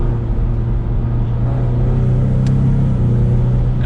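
A 2022 Ford Mustang EcoBoost engine held at steady revs in sport mode, heard as a loud, even mid-low drone with a constant tone and a brief faint click partway through.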